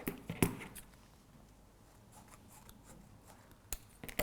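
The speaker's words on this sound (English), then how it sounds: "if this becomes a little bit bent, you can just simply take your scissors" Scissors snip lampshade material in a few quick, sharp cuts close up, separated by quiet handling rustles, with no talking.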